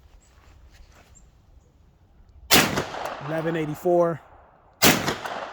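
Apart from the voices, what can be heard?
gunshots from PTR rifle with 8.5-inch barrel at range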